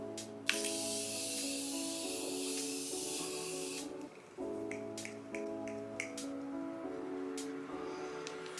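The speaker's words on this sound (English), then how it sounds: "we're gonna go in with the Morphe setting spray" Several quick bursts of a fine mist of Morphe makeup setting spray, close up, with a steady musical backing underneath.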